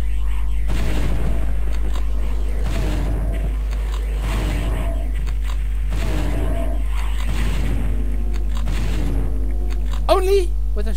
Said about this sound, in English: Only with a shotgun. That's all it took.